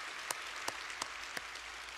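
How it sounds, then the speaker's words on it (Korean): A few sharp, evenly spaced claps ring out faintly over a quiet room, as a church congregation at an early-morning prayer service applauds the children. "우리 앞에 우리 어린이 성도님들을 위해서 한번 박수 치겠습니다"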